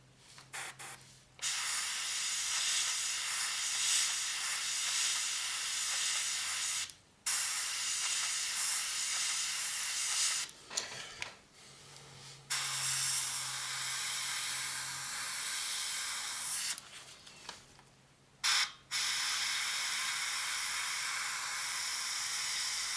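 Airbrush spraying Mission Model paint with a fine mist, a steady airy hiss running for several seconds at a time, broken by a few short pauses, close and moderately loud with no talking.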